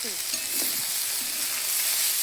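Pumpkin and mixed vegetables with turmeric and salt sizzle loudly in a hot pan, a dense continuous hiss close up with faint stirring, no voices.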